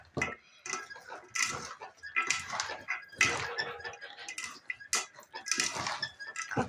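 Kebab meat marinated with grape vinegar being mixed by hand in a bowl, with scattered clinks and scrapes of dish and utensil in irregular bursts, fairly quiet.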